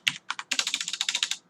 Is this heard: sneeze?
no